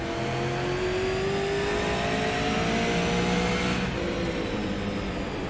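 Super late model race car engine in the iRacing simulator, a loud, steady high-revving drone with rising and falling pitch as the car runs on track, with no talk over it.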